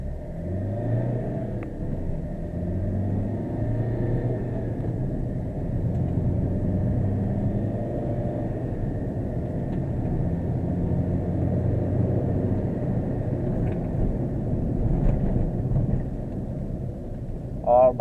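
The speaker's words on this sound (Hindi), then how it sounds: "फर्स्ट गियर डाल दिया हूँ, देखते हैं कितना स्पीड में वहाँ तक में कितना स्पीड पकड़ती है गाड़ी" A 2014 Maruti Suzuki Ritz VDi car engine drones steadily and close in first gear, its pitch climbing gradually as the car gathers speed, with a person talking in Hindi over it.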